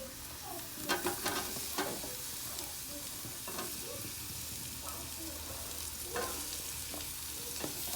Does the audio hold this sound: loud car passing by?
no